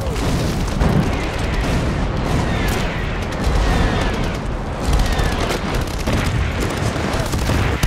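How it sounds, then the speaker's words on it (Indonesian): Dense, continuous battlefield noise with deep booms and rumbling blasts, loud and sustained, like artillery shells exploding amid heavy gunfire. "dentuman pukulan artileri sudah menghantam musuh Finland"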